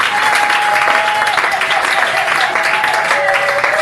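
Congregation applauding during a church deliverance service, a dense, steady wash of clapping filling the room at close range, with a faint sustained tone running underneath throughout.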